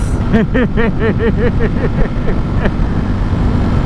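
A Ducati Streetfighter V4 motorcycle engine at speed, loud and close, with rapid repeating rises and falls in pitch over a steady roar of wind and road noise.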